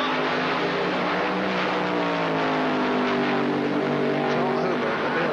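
Blue Max funny car launching down the drag strip at a 1980 European finals at Santa Pod Raceway, a loud sustained engine roar with rising pitch lasting throughout, continuous and dominant.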